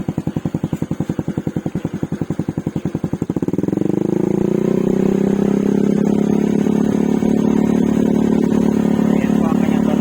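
A motorcycle fitted with a Taikom power pipe exhaust and silencer idles with a rapid, even putter, then is revved up into a loud, sustained engine roar held close by.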